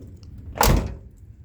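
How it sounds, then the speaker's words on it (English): A single car door closes with a soft, solid thunk, close by and brief, against a quiet background. "Doors closed nice and easy."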